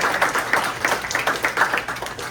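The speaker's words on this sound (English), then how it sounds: "Give Heather a round of applause." A small crowd applauding a host at an aviation event, bright individual hand claps standing out in an uneven, fairly close patter that keeps going without pause.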